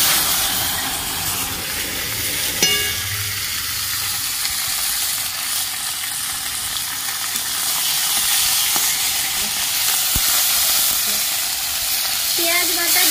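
Chopped tomatoes frying in hot oil after a nigella seed tempering, a steady close sizzle and hiss running the whole time with occasional stirring clinks and no talking.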